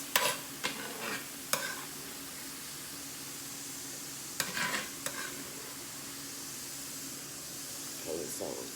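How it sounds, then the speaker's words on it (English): Mushrooms and hamburger sauté in grease on a stovetop, a soft, low background sizzle broken by several sharp utensil scrapes and clinks in irregular bursts, with no talking. "you're gonna grab your mushrooms and you're gonna saute them in this grease"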